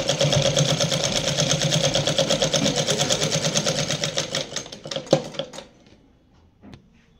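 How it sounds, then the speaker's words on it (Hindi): A sewing machine runs a straight stitch along a petticoat, a loud, fast, even mechanical chatter that slows and stops, followed by a few clicks and handling sounds. "अब ये सीधी सिलाई कर देंगे यहाँ से पकड़ के ऐसे।"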